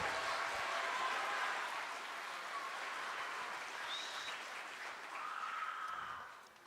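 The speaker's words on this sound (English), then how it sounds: "Let's give them another round of applause." Audience applause for seventh and eighth grade students at a school spring band concert, steady and full for about six seconds, with a few cheers and whistles rising over it near the end before fading.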